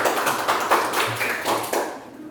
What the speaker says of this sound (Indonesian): Tepuk tangan buat Akil.